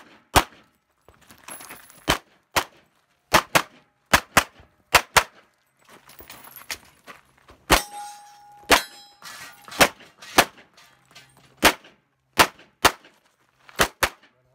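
Single gunshots fire one at a time at uneven intervals, more than a dozen sharp loud cracks with silence between them. A few of them ring with a metallic clang.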